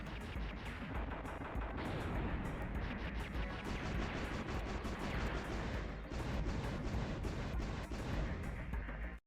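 Dense, continuous enemy gunfire and explosions from the shoot-'em-up game Einhänder, a loud unbroken barrage of rapid shots and blasts with no talking.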